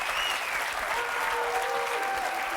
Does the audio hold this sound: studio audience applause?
yes